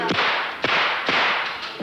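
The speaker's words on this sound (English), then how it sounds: "In the hail of gunfire," Four sharp gunshot-like bangs in a pitch-dark room during a police training film, each crack spaced roughly half a second apart, loud and close with brief decaying tails.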